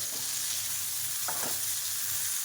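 Green chillies roast in a kadhai for a rustic chilli thecha, giving a soft, steady sizzle with a couple of brief stirring scrapes in the middle. No one speaks over the faint frying hiss.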